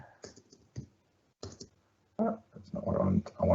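A few sparse, crisp clicks from a computer keyboard are followed by a person talking nearby. The keystrokes are irregular and close.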